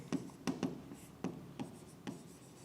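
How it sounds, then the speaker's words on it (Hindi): Pen strokes on paper as a handwritten note is written, a quiet series of short scratchy taps and scribbles spaced irregularly, close and soft with no talking. "उसके बाद एक नोट और लिखेंगे"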